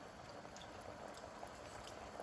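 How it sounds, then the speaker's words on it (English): Green crab risotto simmers on low heat, a faint, steady bubbling hiss that runs unbroken with no voices. "the idea is to let this simmer away on low heat"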